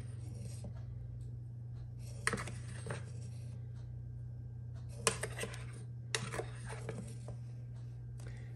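Ground coffee goes into an Italian stovetop coffee maker with a little spoon, making soft metallic scrapes and clinks in a few separate bursts. The sounds are close and quiet over a low steady hum.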